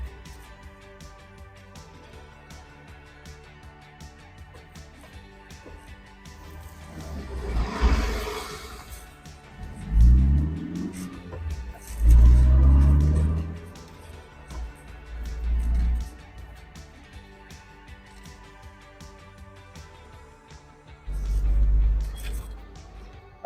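A 2011 Morgan 4/4 Sport with its 1.6 Sigma engine, heard driving with several rising engine revs and gear changes, loud bursts of acceleration separated by quieter stretches, close to the car.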